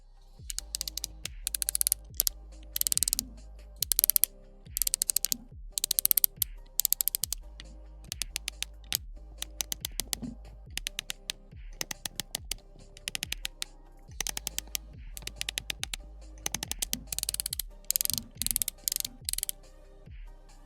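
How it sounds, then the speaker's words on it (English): Rapid plastic clicking of the Studio Series '86 Megatron toy's leg ratchets being worked, bursts of sharp ratcheting clicks in repeated runs separated by short pauses, close and fairly quiet. "let me let you guys listen to the leg ratchets"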